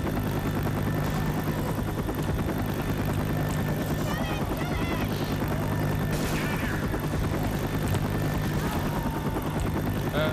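Helicopter idling at a helipad in the video game Dark Blood 2, a steady loud rotor and engine drone filling the whole stretch, with game effects and faint voices mixed in.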